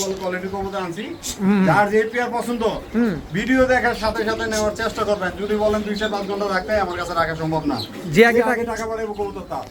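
Caged pigeons coo softly at a wholesale pigeon seller's stall, mostly buried under continuous nearby talking.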